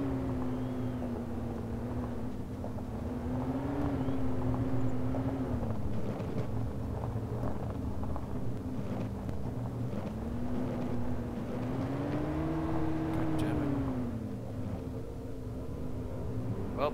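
A car driving in the DayZ video game, its engine humming steadily with a droning note that rises and dips as it speeds up and slows, continuous and moderately loud with rushing wind, no talk.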